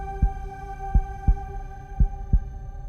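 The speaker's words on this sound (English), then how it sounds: "Can you hear her heart beating?" A heartbeat in a horror point-and-click game thumps in low, muffled pulses, five beats at slightly uneven intervals, heard over a steady droning hum.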